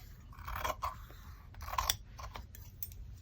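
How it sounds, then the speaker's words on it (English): Scissors cutting paper for a nature-themed junk journal: a few crisp snips and crunchy scraping bursts in irregular rhythm, close and fairly quiet. "Grab my scissors."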